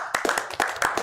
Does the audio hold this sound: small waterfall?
no